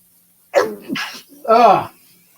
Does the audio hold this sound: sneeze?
yes